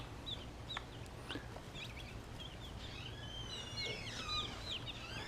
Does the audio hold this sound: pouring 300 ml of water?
no